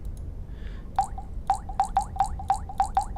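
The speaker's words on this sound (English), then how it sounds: "let's go ahead and drink some of this water" Drinking water in the video game Wayfarer: a quick series of about eight bright, liquid gulping drips in a steady rhythm after a faint opening blip, clean and close over a low background hum.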